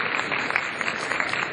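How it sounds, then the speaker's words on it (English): A seated audience applauds after a show, a dense, even wash of many hands clapping at a distance, sustained without pause. "one more round of applause for the show here"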